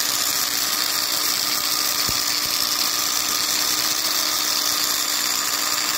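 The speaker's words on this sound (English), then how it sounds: "I use a big drill since i use an older, bad, beat-up drill." An old, beat-up, 30-year-old electric drill runs continuously with a steady high-pitched whine and buzz, unchanging throughout.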